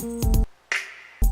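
A finger snap sample from a track: a few sharp, dry snaps in quick succession, then a softer noisy hit and another snap, close and crisp with nothing else playing.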